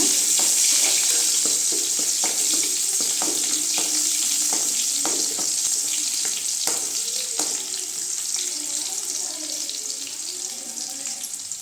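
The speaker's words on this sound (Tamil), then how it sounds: "வெங்காயம் சேர்த்துக்கலாம் நல்லா வதங்கட்டுங்க" Onions sautéing in a pan for an okra stir-fry, a steady bright sizzle throughout with a few light scraping stirs, close and fairly loud, no talking.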